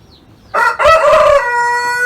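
A blue Columbian Brahma rooster crows once at close range, a loud, drawn-out cock-a-doodle-doo lasting over a second with a steady tail, with faint background noise and no talk.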